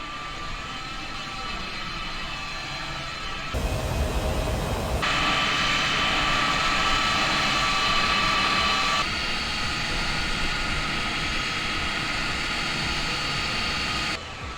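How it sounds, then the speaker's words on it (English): C-17 jet engines whine and roar steadily while the plane taxis to the runway at RAF Brize Norton in a flight simulator game, a loud, continuous drone that rises in pitch partway through and holds until the end. "with the engines warm, let's taxi to the runway now."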